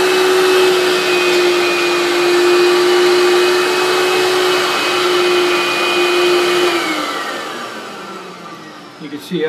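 A Bissell rug and carpet cleaner runs steadily at close range, a loud constant motor whine with suction roar; its pitch drops and it winds down slightly near the end.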